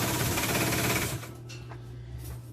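An industrial sewing machine runs fast stitching an inflatable in a manufacturing workshop, a loud dense whirring buzz that stops after about a second, leaving quiet room hum and faint handling.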